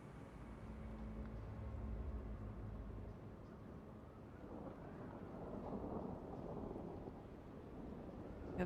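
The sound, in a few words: winter storm wind in video game Frostpunk 2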